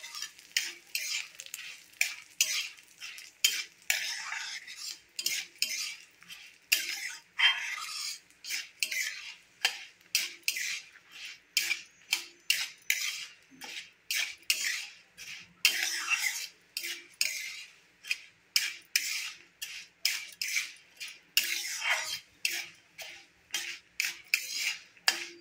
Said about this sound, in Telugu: ఎండుమిరపకాయలు కూడా కొంచెం వేగాక ఇంకా ఆపేద్దాము.